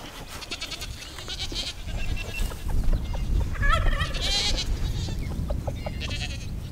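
Young goats bleat on a farm yard, several high wavering calls rising over a busy, rustling outdoor background with other farm animal noises mixed in.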